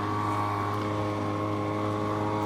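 A tiny homemade boat runs its small outboard motor at full throttle, a steady, loud buzzing drone with strong harmonics, unbroken and close, with wind noise over the top.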